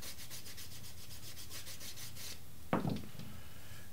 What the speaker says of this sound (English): If you so desire, you can bevel your edge of veg tan.